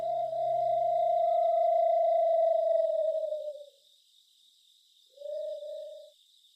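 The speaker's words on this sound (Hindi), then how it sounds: "अचानक दूर से उल्लू की आवाज आई" A hollow, low hoot held for several seconds fades out, followed after a short pause by a second, briefer hoot, with no voices.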